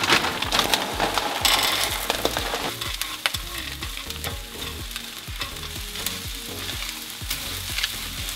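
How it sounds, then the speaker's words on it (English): Vegan fried rice with tofu and peas stir-fried on high heat, with a steady loud sizzle and repeated scraping and clacking of a utensil against the pan throughout, no voices. "And keep stirring that around. Don't let anything burn, especially on high heat."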